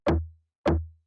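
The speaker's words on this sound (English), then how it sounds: "We will get another lower layer in this one," Two deep conga hits about half a second apart, each with a round, booming low tail that fades out.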